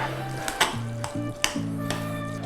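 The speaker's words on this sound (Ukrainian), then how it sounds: "Це називається перемішування." Mushrooms sizzle in a hot pan while a utensil stirs them, with several sharp scraping clanks against the pan over a constant frying hiss and a faint tonal hum underneath.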